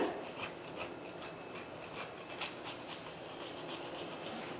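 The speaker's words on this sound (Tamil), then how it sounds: "கொஞ்சம் முந்திரி மட்டும் எடுத்து நான் அப்படியே துருவி சேர்த்துக்க போகிறேன்" Cashew nuts are grated over a gram flour and semolina burfi with quiet, close, rhythmic rasping scrapes and no talking.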